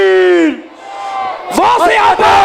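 A rally crowd at Chowk Ghantar Chhab in Faisalabad roars back together in response to a shouted Takbir call, loud massed voices swelling and overlapping after a single leading shout.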